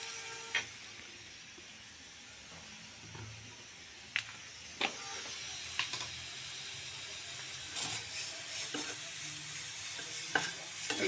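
Beetroot slices fry in a pan with a soft, continuous sizzle, broken by occasional scrapes and taps of a spatula stirring them, quiet and close with no talk.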